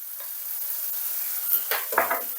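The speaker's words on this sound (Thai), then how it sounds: "นี่ก็ผัดเลยค่ะ" Noodles with napa cabbage are stir-fried in a large pan: a steady sizzle with scraping stirs and tossing that grow louder toward the end. There is no talk.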